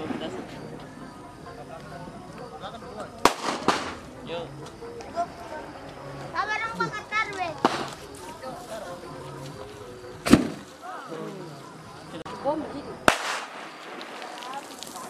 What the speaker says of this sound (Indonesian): Om sabar dulu, bom petasan.